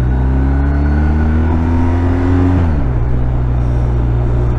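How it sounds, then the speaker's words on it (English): BMW R1250R motorcycle with shaft drive, engine braking as revs fall: a loud, close, steady engine drone with a downward pitch sweep partway through, then a lower, even rumble, with no talk. "Jeez, engine braking, man. Shaft drive."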